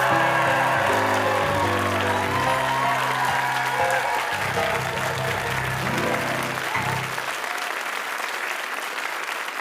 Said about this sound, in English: That applause flowing for our dynamic, our fantastic Mischief cast for this afternoon.